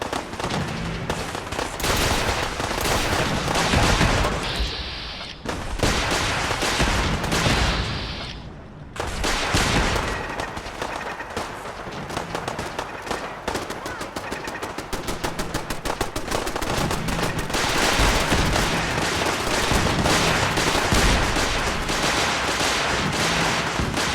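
Dense, sustained automatic turret gunfire during a castle defense in Fallout 4, with rapid overlapping bursts and loud bangs continuing almost without pause, briefly thinning around midway before resuming at full intensity.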